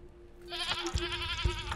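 A goat in the game Sally Face bleats in a wavering, quavering call lasting over a second, fairly close, with a couple of low thumps beneath it.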